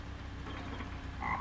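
A frog croaks in a low, rough rattle, steady and moderately loud against a murmuring background, with a brighter chirp near the end.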